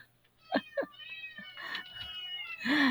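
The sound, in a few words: cats meowing at feeding time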